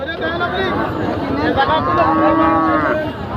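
A cow lows at a busy Bangalabhanga cattle market during a night-time sale of a sacrificial Qurbani cow, a drawn-out moo rising over constant crowd chatter and nearby talking voices.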